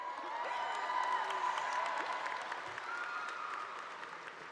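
A high school graduation crowd applauds with scattered whoops and cheers, a broad sustained clapping roar from a distance that fades slightly toward the end.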